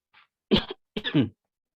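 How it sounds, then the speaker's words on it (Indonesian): A few short, harsh coughs from a nearby person, a faint one followed by two louder bursts, then quiet. "Mohon maaf Bapak batuk-batuk nih, jadi selalu ada minuman di samping."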